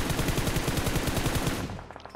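Rapid automatic gunfire in PUBG Mobile on the Erangel map: a sustained, loud burst of evenly spaced shots for about a second and a half, then a sudden stop into a fading echo.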